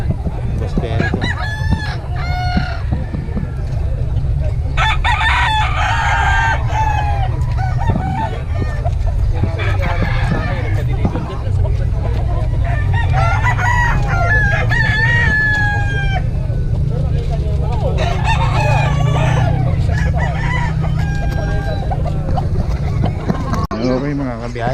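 Roosters crow repeatedly and chickens cluck at a poultry seller's place, the calls rising one after another over a constant low engine-like hum, while people talk nearby.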